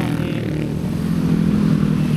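Dense road traffic with motorcycles at Puncak Bogor in cold weather, a steady loud engine rumble and droning hum close by, rising slightly toward the end with no speech.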